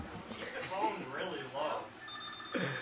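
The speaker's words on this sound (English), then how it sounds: "That's totally that phone." A telephone rings in a radio studio, its bell-like tone surfacing briefly through the talk of several voices, moderately close and not loud.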